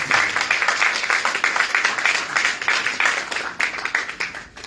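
A burst of close, lively hand clapping from the audience at a press conference announcing a fight, dense and fairly loud, tapering slightly toward the end.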